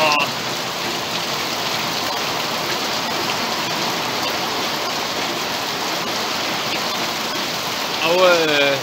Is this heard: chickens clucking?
no